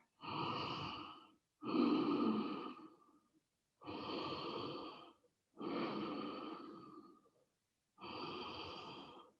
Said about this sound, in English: You can do your Ujjayi breath here.